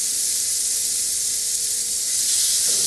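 A loud, continuous sizzle of steaks searing in a hot pan, steady and close, with no talking.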